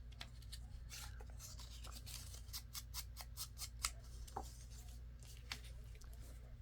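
Scissors snip through paper for a journal insert in a quick run of crisp, close cuts, with small clicks and rustles between the blades' strokes in a quiet room.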